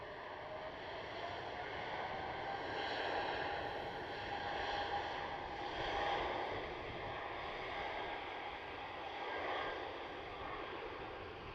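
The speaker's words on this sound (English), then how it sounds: "Oh, that's a heavy climb of that A350" Airbus A350 widebody jet climbing out after a night takeoff from Amsterdam Schiphol runway 36L, a steady distant roar with broad rumble and faint whine, swelling gently and holding throughout with no voices.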